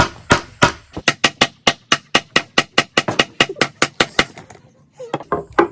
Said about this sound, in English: Give it a couple more good whacks.